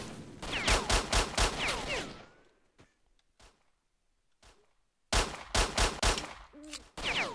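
Rapid bursts of gunfire crackle in S.T.A.L.K.E.R.: Shadow of Chernobyl, loud volleys of shots followed by a near-silent lull with a few stray pops, then another burst of firing.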